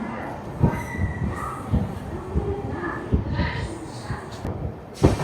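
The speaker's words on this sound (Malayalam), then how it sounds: "അങ്ങനെ നമ്മുടെ ട്രെയിൻ മധുരയിൽ നിന്നും എടുത്തു." Rameswaram–Mangalore Express pulling out of Madurai, with rhythmic rail knocks and light clatter under steady rolling noise, heard from on board at moderate volume, with someone talking over it.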